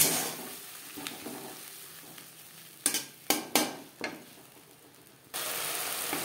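Spices and mashed tomato sautéed with a little water in a pan for Bele fish curry, a soft steady sizzle broken by several sharp scraping stirs of a spatula, close and clear with no talking.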